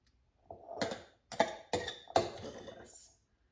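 A spoon scoops chickpea filling from a dish, giving four distinct clinks and scrapes of metal on crockery, close and fairly quiet, with short pauses between them.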